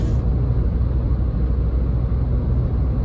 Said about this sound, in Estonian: Maanteel saab rehvi müra võrrelda teiste keskklassi autodega.